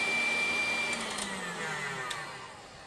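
An electric hand mixer whirs steadily at close range, beating egg whites toward soft peaks for a chocolate soufflé, its motor hum continuous and even with faint clinks against the bowl.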